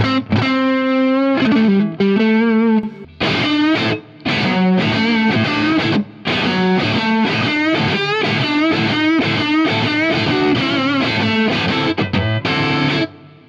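A loud, gritty overdriven electric guitar through a Marshall tube amp with some reverb plays sustained chords and bending lead lines, with short gaps between phrases and no voices.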